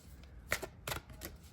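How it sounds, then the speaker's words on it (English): A deck of playing cards being shuffled, a few quick soft riffling bursts close by in a quiet room. "I'm going to do a little shuffle"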